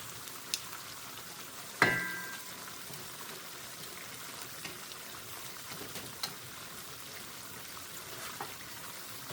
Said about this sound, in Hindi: अब हम इसको भूनेंगे, हल्के हाथ से भूनेंगे